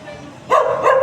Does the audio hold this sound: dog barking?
yes